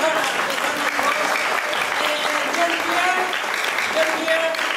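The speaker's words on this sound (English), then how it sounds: "Please give her a big round of applause." A crowd at a Zo Khuado Pawi 2017 community celebration in New Zealand gives a round of applause, steady dense clapping from many people at moderate loudness with voices talking over it.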